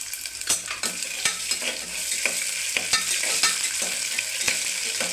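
Ginger garlic paste frying in a hot pan for tomato biryani, a bright continuous sizzle punctuated by a regular series of sharp spatula scrapes and taps as it is stirred, close and loud with no talking.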